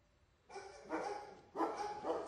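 Golden Retriever female at an animal shelter barking twice, two distinct barks about a second apart, moderately near and heard alone over quiet background.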